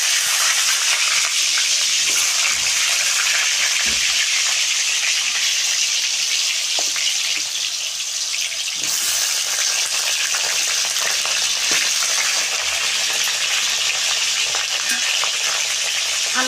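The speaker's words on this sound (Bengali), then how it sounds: "আলুগুলো এখন ভেজে নেব লাল লাল করে।" Potatoes fry in hot oil in a wok, a dense, loud, continuous sizzle with occasional small pops and crackles throughout, no voices.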